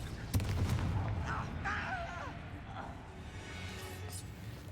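A Confringo blasting spell goes off in Hogwarts Legacy as a sharp, loud burst near the start, followed by rumbling in-game effects and background music that run on steadily to the end.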